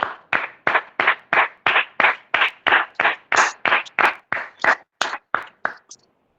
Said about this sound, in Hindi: और सबसे पहले हम परमेश्वर को महिमा देने के लिए एक जोर से ताली बजाते हैं।